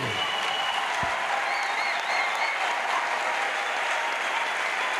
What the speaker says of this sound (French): Let's clap, stand up and clap to the Lord.